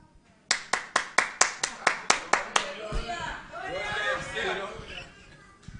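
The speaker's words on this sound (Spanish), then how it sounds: "Dios merece aplauso." A church congregation claps in a steady run of about a dozen sharp, evenly spaced claps, then breaks into scattered, overlapping clapping mixed with voices talking and calling out.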